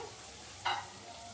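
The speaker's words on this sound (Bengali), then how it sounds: "আমি মশলাগুলোকে আবারও একটু নেড়ে দিচ্ছি যাতে নিচে না লেগে যায়" Spice masala for a pomfret fish curry frying in a pan, a quiet low sizzle with one brief scraping stir in the middle.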